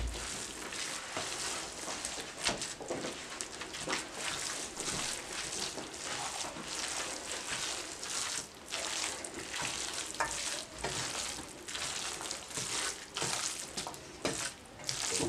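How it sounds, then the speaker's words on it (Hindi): Khoya is stirred into carrot halwa in a pan, a continuous soft scraping and sizzling with steady spoon strokes, close but quiet, with no voices. "अब आपने खोए को अच्छी तरह से बीच में मिक्स कर लेना।"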